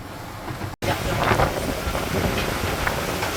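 Ocean waves surging around the sailboat Karlana IV on a transatlantic crossing, a steady loud rush of water and wind noise across the whole stretch, broken by one brief dropout near the start.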